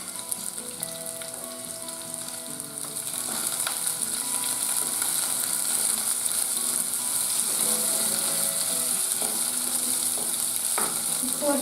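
Chillies sizzle in hot tempering oil for mixed dal, a steady close hiss that swells after a few seconds and continues evenly, with occasional faint stirring clinks.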